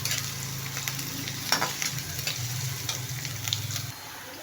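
Chopped onion sizzles and crackles steadily in a hot pan while being stirred until reddish, with occasional spatula scrapes over a constant low frying hiss.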